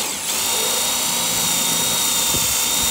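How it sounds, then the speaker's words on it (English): A power drill bores a quarter-inch hole for mounting a center console tech plate, producing a loud, steady high-pitched whine that holds constant throughout at close range. "I'm gonna use a quarter inch drill bit."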